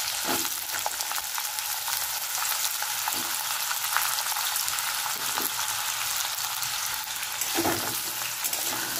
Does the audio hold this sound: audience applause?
no